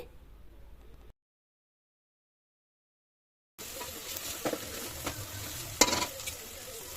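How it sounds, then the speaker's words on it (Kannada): Masala for tomato bath is stirred and fried in oil. A brief stretch of frying gives way to near silence, then stronger sizzling returns with scraping stirs and a few sharp clinks against the pot. "ನಾವು ಫ್ರೈ ಮಾಡಿರುವಂಥ ಮಸಾಲೆ ಎಲ್ಲ ಎಣ್ಣೆ ಬಿಡಬೇಕು ಆ ರೀತಿಯಾಗಿ ಫ್ರೈ ಮಾಡ್ಕೋಬೇಕು"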